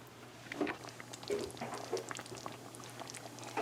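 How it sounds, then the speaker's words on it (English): Quiet bubbling and soft popping of Guyanese karhee curry simmering in a pot, irregular small bursts over a low steady hum. "So there's our karhee boiling away there."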